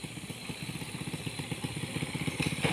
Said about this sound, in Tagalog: Ang mga motor.